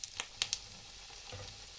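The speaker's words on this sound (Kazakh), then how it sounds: "сәбізімізді қуырып аламыз осылай" Carrot slices sizzling in hot oil in a frying pan, a steady close crackle broken by a few sharp clicks and pops near the start, with no talking.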